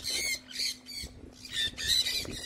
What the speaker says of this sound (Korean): 썬콘유어는 야생에서 무리지어 생활하는 앵무새입니다.